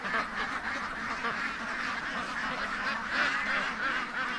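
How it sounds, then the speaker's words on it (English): Ducks in a pen at night, a continuous chorus of many overlapping quacks and honks, moderately loud and close with no pauses. "there's a lot of sleeping ducks at the other end of the pen"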